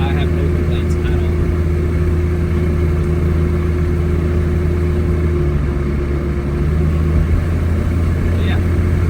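A steady, close engine drone fills the cabin of an all-wheel-drive car with a swapped-in 2JZ engine, running up to 35 psi of boost, as it drives at an even pace with no sharp revs.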